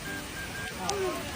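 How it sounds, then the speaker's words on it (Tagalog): Heavy rain falls as a steady broadband wash of patter, moderately close and even, with faint tonal sounds and slight murmuring layered on top. "Ang lakas ng ulan."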